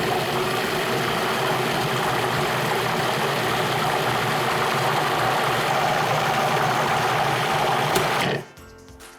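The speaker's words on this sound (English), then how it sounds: "We're gonna put the lid on our food processor" A food processor blending peach BBQ sauce ingredients with brown sugar, a loud steady motor whir and churning that runs for about eight seconds, then cuts off abruptly.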